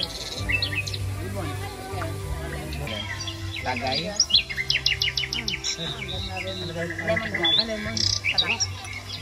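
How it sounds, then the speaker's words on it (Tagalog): Birds chirp and tweet repeatedly in quick, high trills, close and clear, alongside a low hum and a brief spoken word. "Parang may ibon ako narinig."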